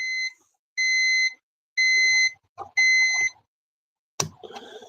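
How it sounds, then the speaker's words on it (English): Electronic beeps from a retro computer board sound in a series of four short, evenly pitched tones with pauses between, followed by a sharp click and a faint rattle. "A new kind of beeping."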